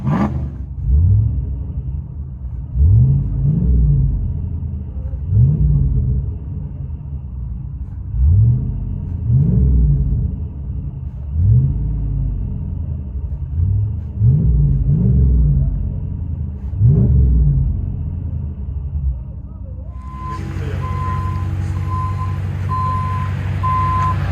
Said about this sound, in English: Ram Powerwagon HEMI, muffler and resonator delete